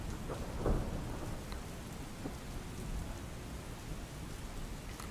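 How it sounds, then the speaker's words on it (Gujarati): Steady heavy rain pours down in Dahod in the early morning, a dense, continuous hiss, with a low rumble of thunder early on and no voices. "વહેલી સવારથી જ દાહોદમાં વરસાદ વરસી"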